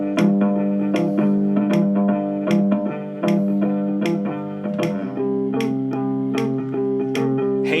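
A fan-made cover of a song plays as steady, sustained guitar chords with a bright, buzzy tone and sharp plucked accents on top. The sound is continuous and fairly loud, with no voices.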